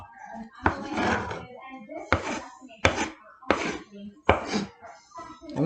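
Knife chopping onion on a cutting board while making breakfast tacos, a series of sharp separated chops and cuts with short pauses between, close and clear with faint talk nearby.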